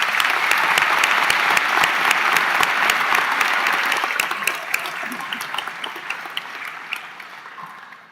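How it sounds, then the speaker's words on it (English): A graduation crowd at a North Muskegon high school commencement applauds its student speakers, dense sustained clapping that gradually thins and fades toward the end. "One more round of applause for our amazing student speakers"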